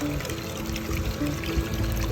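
Water runs through a gold sluice with a steady, close-up pouring and splashing rush that stays constant, with no voices.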